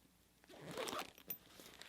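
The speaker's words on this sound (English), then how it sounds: "So it zips shut" Zipper closing a large organizer bag: one quick zipping pull of about a second, close and fairly soft, with no talking over it.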